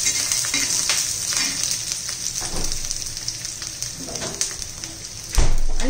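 Ginger, garlic and spices sizzle and fry in a pan for an eggplant masala dish, a steady crackling hiss with occasional stirring scrapes, closer and louder near the end.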